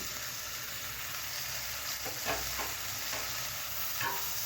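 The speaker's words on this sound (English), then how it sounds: "Now saute all this nicely." Curry leaf, green chili and red chili sautéing with green peas in a pan for rice upma, a steady close sizzle with soft stirring scrapes and a few spatula clicks, no talking.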